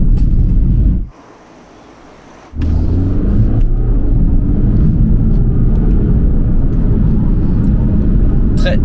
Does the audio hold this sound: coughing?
no